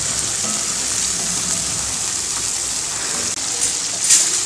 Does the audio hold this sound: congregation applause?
no